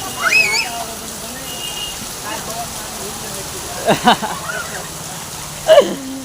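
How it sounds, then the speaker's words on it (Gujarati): Heavy rain falls as a loud, constant hiss close to the microphone, with a voice speaking in brief bursts over it. "ગજબનો વરસાદ ચાલુ છે ભાઈ"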